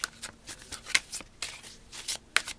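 Tarot cards shuffled and cut during a reading, a run of soft papery riffles and flicks in quick bursts, close and fairly quiet, with no talking.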